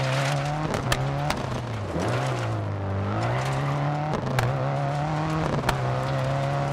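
Subaru STI rally car in the DiRT 4 video game, engine droning steadily with pitch dipping and rising as it brakes and accelerates through corners, tyres scrabbling on loose surface, with occasional sharp clicks.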